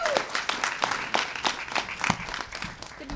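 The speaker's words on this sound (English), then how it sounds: "let's give her a round of applause" Applause from an audience at a mayoral event in Seattle greets a University of Washington senior as she comes up to speak, a steady patter of claps filling the room with faint voices underneath.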